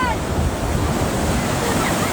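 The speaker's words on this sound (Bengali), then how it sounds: "এই ঢেউয়ের জোরটা ভালো ছিল, হয়তো হাইট কম ছিল বাট জোরটা ভালো ছিল।" Strong ocean waves break at Puri beach, a loud, close, continuous roar of surf mixed with wind buffeting the microphone.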